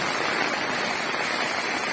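Rain falls in the Chathamangalam hills near Cherupuzha in Kannur district, a continuous even wash of noise with no talking.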